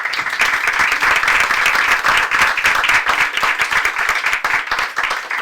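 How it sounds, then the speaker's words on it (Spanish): An audience at a legal panel on gender perspective claps for the speakers, a dense sustained round of applause that stays loud for several seconds before beginning to thin. "reitero primero el aplauso a nuestras expositoras"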